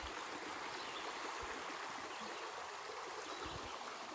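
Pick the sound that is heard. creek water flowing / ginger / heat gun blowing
creek water flowing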